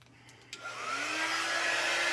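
A hair dryer clicks on and blows a rising, steady whoosh of hot air over a craft project, close to the listener.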